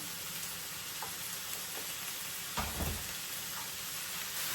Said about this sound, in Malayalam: ഉള്ളി വഴന്ന് വരാനായിട്ട്